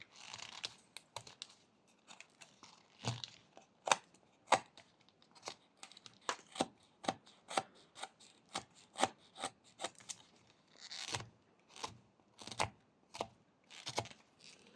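Whittling knife carving a V cut into wood, a series of short, close scraping and slicing strokes in an irregular rhythm, each a quick rasp followed by brief quiet, with no talk.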